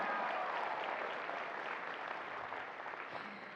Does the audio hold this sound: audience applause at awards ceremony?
yes